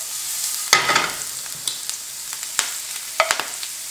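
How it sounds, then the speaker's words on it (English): Garlic frying in hot oil in a pan, a soft continuous sizzle broken by several sharp clinks and scrapes of stirring, close and alone. "while the garlic is sautéing away"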